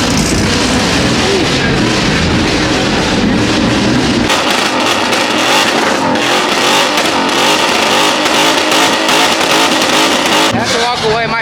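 Maserati MC20 engine revving loudly at a car club event, a harsh continuous roar with surging revs and pops, blended with crowd noise and people talking nearby.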